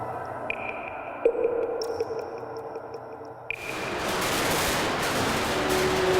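Fireworks and firecrackers at the Fallas festival in Valencia, Spain: thin whistling tones give way to a loud, sustained crackling roar that fills the air, with no voices.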